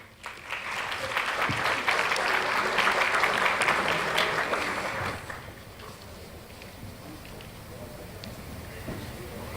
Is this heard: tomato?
no